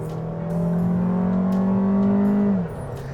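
Small 1.4 liter engine of a 2020 Fiat 500L Trekking runs close by, a steady drone that swells with a rev, holds, then drops back toward idle near the end, with no talk.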